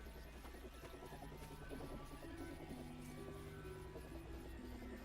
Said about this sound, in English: helicopter sound I'm hearing?